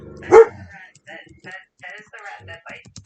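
A dog gives one loud close bark, then a run of quieter yips and whimpering noises in short bursts.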